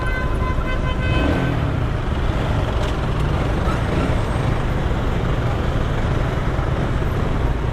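Steady roar of busy road traffic heard from a Suzuki Gixxer motorcycle, dense engine and tire noise throughout with a brief horn toot near the start, no clear voices.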